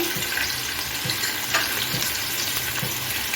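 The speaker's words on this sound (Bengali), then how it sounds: "এখন আমি গাজরা বিনস ভেজে নিচ্ছি" Carrots and beans frying in a pan hiss in a steady, close crackle, with a faint, regular stirring tap recurring every second or so.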